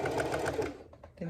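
A sewing machine runs fast while stitching a dart in fabric, its quick even needle chatter lasting under a second before it stops with a few faint clicks.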